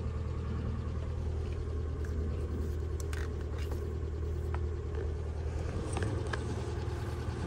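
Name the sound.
Infiniti M37S engine running after cranking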